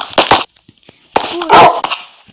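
Pet dogs give a few sharp, close barks, then a soft whimper and a louder cluster of yips, with short quiet gaps between the bursts.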